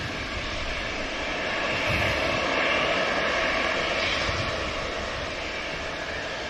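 A Cathay Pacific airliner with Rolls-Royce engines departs runway 23 left at Manchester Airport, its steady broadband jet roar holding loud and continuous throughout with a slight swell in the middle.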